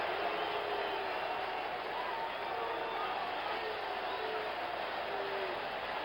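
A large stadium crowd at an NFL game between the Atlanta Falcons and San Francisco 49ers roars and cheers in a steady, continuous wash of noise heard from a distance, with no distinct breaks.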